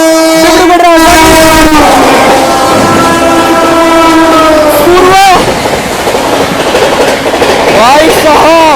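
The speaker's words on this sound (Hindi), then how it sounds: "12424 न्यू दिल्ली डिब्रूगढ़ राजधानी एक्सप्रेस आती हुई फ्लाइट 130 पूरी रफ्तार में डिब्रूगढ़ राजधानी" The 12424 New Delhi–Dibrugarh Rajdhani Express passes at full speed close by, its horn blaring in long loud blasts before the rushing rumble and clatter of wheels and coaches takes over.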